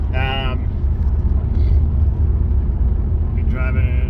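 Steady low rumble of a car cruising along winding roads on a road trip, heard from inside the cabin with constant engine and road noise, while someone talks over it.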